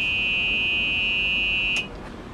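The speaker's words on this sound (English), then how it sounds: "when you do go into reverse, you do have the reverse warning beeper so that you know you" Reverse warning beeper on a Club Car Carryall 6 utility vehicle sounds as a steady, shrill electronic tone that holds continuously, then cuts off, leaving low background hum.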